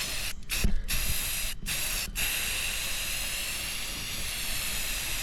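Metallic spray paint hisses steadily from a wide fan-pattern spray gun onto a car body, laid on in a wet, even coat with a few brief pauses between passes, close and continuous.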